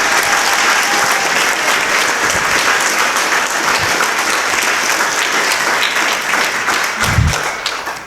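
Sustained applause from a large audience at a congressional candidate forum, steady and full throughout, with the clapping holding at an even level for several seconds.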